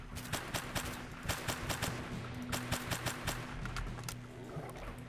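Rapid pistol shots in the Global Outbreak Doomsday Edition game, a steady run of sharp repeated cracks over a continuous low rumble of in-game background noise.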